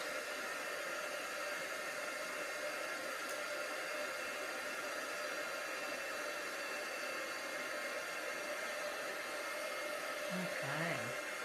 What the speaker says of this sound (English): I think that might be all of our heat gunning.